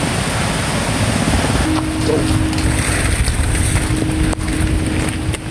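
Heavy rain pours steadily over open sea on a fishing trip in a constant, loud hiss, with a low boat engine hum joining partway through.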